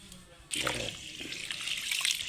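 Water poured over soaking lentils being washed, a sudden gush that starts abruptly and keeps splashing and trickling steadily, close and fairly loud, with no talk.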